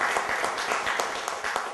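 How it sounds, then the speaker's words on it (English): Quieter applause from a small mentoring gathering, with individual claps standing out at a brisk, uneven rhythm over the softer crowd clapping. "Applause for Sue."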